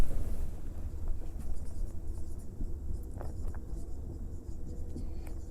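Pen or chalk scratching during a physics lesson on concave mirror images, a run of short, faint strokes and taps over a low background hum, without talk.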